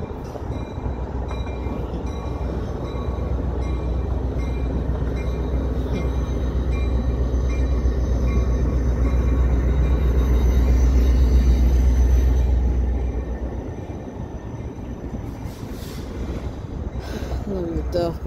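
A steam locomotive passing close by, a loud, steady rolling rumble with clanking wheels that builds and then eases off near the end. A voice can be heard faintly over it.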